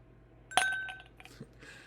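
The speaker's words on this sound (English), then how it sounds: "Let's put it over some ice and see how it fares." Ice cubes clinking into a Glencairn glass of Irish whiskey: one sharp bright glassy clink, a ringing tail, then a few softer knocks and rattles as the ice settles, close and clear.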